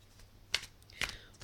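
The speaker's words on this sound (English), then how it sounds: "I'm going to shuffle the colour cards and get you a colour card." Colour cards used for a tarot-style reading are shuffled in three short, crisp riffling bursts, close and fairly quiet, with near silence between them.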